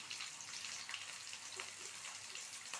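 Potatoes and beans sautéing together in a pan for a Punjabi-style beans and aloo jeera curry, giving a steady, soft, continuous sizzle with no talking.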